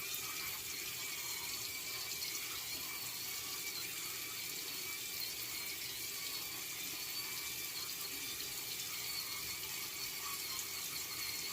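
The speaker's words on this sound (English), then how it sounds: "So I'm going to rinse a little bit of shaving cream off" Tap water runs steadily into a sink while shaving cream is rinsed off a palm shaver, a constant soft hiss and splash at moderate distance with no talking.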